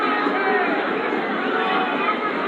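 A football crowd at a New Mexico United versus Atlante F.C. match, a dense, steady wash of stadium roar and cheering throughout, with commentary voices over it.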